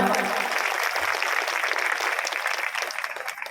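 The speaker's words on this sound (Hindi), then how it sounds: "एक बार इस अभियान के लिए जोरदार तालियां" Sustained, dense applause from an audience at an International Women's Day program in Lakhnadon, clapping for the Beti Bachao Beti Padhao campaign; steady and fairly loud, tapering slightly toward the end.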